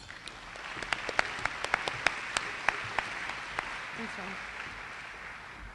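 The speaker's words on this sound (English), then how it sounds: "Let's give these members a round of applause." Audience applause at a women-in-business conference luncheon, a steady wash of many hands clapping with a few sharper claps standing out, fairly distant in a large room, fading toward the end.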